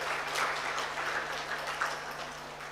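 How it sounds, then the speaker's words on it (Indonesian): Applause for graduates at a Quran memorization graduation ceremony at Universitas Brawijaya, a soft, steady patter of many hands heard from a distance, with a low electrical hum underneath. "Tepuk tangan semuanya."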